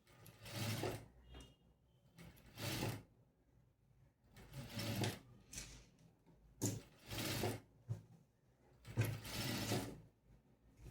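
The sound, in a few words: sewing machine stitching fabric for a kameez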